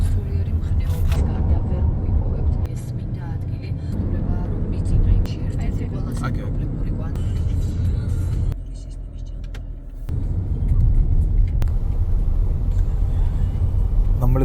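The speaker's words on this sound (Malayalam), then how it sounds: "വൈകുന്നേരം ആയതുകൊണ്ട് റോഡിലൊക്കെ നല്ല ട്രാഫിക് ഉണ്ട്." Evening road traffic on a route toward Mtatsminda Park in Georgia rolls past as a heavy, continuous low rumble of car engines, easing briefly partway through, with faint voices mixed underneath.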